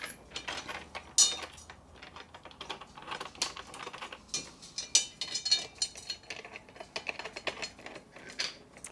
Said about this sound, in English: I'm gonna hand tighten these lugs.